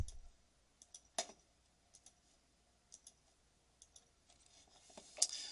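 Computer mouse clicking, sparse sharp single clicks spaced a second or so apart, close and faint in a quiet room, with a slightly louder click near the end.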